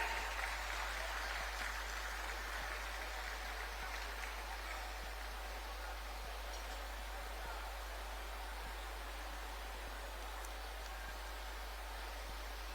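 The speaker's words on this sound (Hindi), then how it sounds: "तालियां आपकी ओर से होती रहनी चाहिए" Sustained applause from a crowd at a government beneficiary ceremony in Jharkhand, a dense, even wash of distant clapping with a constant low hum beneath it, holding steady throughout.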